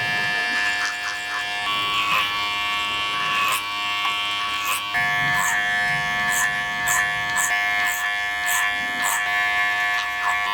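Electric hair clippers with an adjustable lever set to half, cutting short, light-colored hair: a loud, close, continuous buzz with a strong hum, broken by short repeated clicks and pitch shifts as the blade works up and off.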